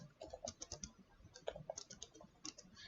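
Quick bursts of keystrokes on a computer keyboard while an essay is written, soft, close clicking in uneven clusters with short pauses between runs.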